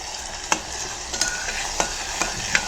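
Onions fry in oil with rock salt, a continuous close sizzle broken by a few sharp stirring clicks.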